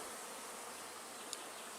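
Honeybees swarming out of a hive give a steady, dense insect hum that stays even and close throughout, with one brief faint click near the end.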